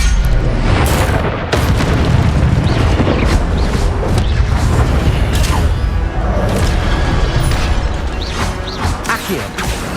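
Fire spell blasts in Hogwarts Legacy, played on PS5, come as loud, dense booming bursts over a constant roaring wash of combat effects, with several sharp impacts spread across the stretch and no speech.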